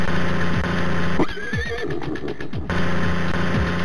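A horse neighs in the Thomas & Friends Learning Circus Express video game, a single whinny in the middle cutting through a loud, continuous electronic game music loop.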